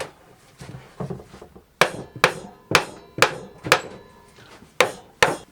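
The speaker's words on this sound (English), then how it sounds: "Now, I'm going to hammer these ones in quite hard." Sharp hammer blows driving wooden chair legs into a chair, about eight strikes in an uneven rhythm, close by and loud, with softer taps between them.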